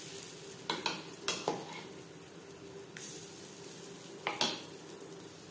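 Ground moong dal stirred in a pan over a low flame, a soft steady sizzle with a few scraping spatula strokes in irregular bursts, close and fairly quiet, with no talking.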